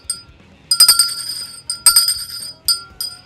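Cheap two-dollar bell struck in several separate bright metallic dings, each ringing briefly then fading, close and fairly loud with no talk.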